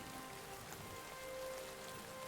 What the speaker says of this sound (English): it's nighttime, I think, and it's raining